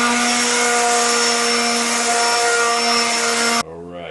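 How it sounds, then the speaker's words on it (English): A power sander lightly sands a painted pallet wood board, a loud, steady whirring drone running continuously before cutting off abruptly near the end. "Going to give it a light sanding."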